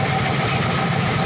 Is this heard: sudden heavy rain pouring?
no